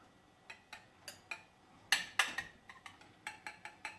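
A wire whisk beats eggs and butter together in a bowl while making mac and cheese, giving a run of quick, close metallic ticks and clinks against the bowl, sparse at first and then faster and more insistent.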